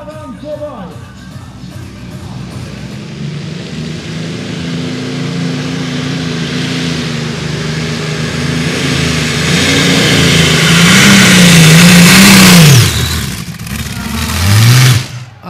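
Pulling tractor engines roar through a run at a tractor pulling Euro Cup event in Edewecht, the sustained loud drone climbing in pitch and intensity, with a rising whine near the end; a commentator talks over it.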